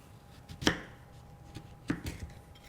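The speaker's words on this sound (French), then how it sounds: "Pour faciliter la cuisson, je coupe les poires en deux" Peeled pears halved with a knife on a board, two distinct quiet cuts about a second apart, each a short crisp thud with a faint scrape, in a calm kitchen.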